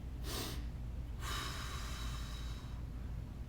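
Heavy breathing during a stick mobility exercise: a sharp snorting inhale, then a long forceful exhale that trails off, close to the mic over faint room noise.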